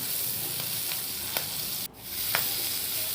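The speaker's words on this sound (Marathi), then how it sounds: "मिरची आणि लसूण छान तेलामध्ये भाजला किंवा तळलाही जातो" Green chillies and garlic fry gently in oil over low heat, giving a soft, steady sizzle with a few faint clicks from stirring and one brief dip in the hiss.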